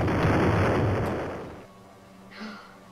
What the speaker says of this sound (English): Just bomb the safe in the bank